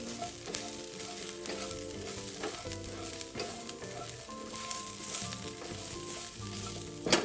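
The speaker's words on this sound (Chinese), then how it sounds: "接着再将香茅加入，一起拌炒至溢出香气。" Lemongrass stir-fried in a hot wok with pork belly makes a loud continuous sizzle, with stirring scrapes and clatter running throughout and no talking.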